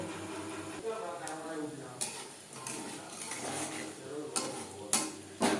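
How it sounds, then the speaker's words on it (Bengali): Banana flower chops deep-frying in oil sizzle steadily up close, with sharp clinks and clatters of utensils against the pan breaking in at irregular intervals. "পরের ব্যাচের চপ একইভাবে ভেজে নেব।"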